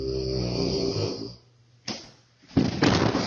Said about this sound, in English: Snoring so loud, he kicked himself off.